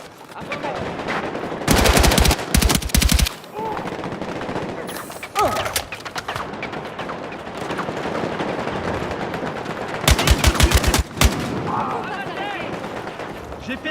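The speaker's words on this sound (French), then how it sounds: "Une mitrailleuse. À 20 mètres." Machine gun fire in Battlefield 6 rips out in two loud sustained bursts, with scattered single shots and battlefield rumble between them.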